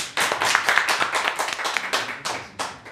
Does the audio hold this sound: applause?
yes